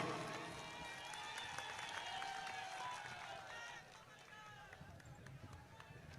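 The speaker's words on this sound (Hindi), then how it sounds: "जोरदार तालियों से कमलनाथ जी का आप स्वागत कीजिए" Steady applause from a crowd at a Congress Adivasi rally in Madhya Pradesh welcoming Kamal Nath, a dense sustained patter of many hands that softens slightly toward the end, with faint voices mixed in.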